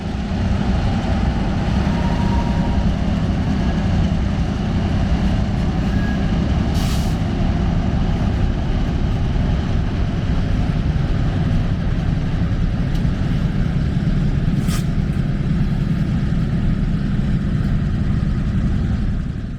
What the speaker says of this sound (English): we'll see a trio of classic EMD switchers pulling a long cut of covered hoppers out of East